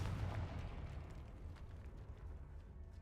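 A fire-blast spell explodes in the Hogwarts Legacy video game, a low rumbling boom that swells at the start and rolls on steadily for a few seconds.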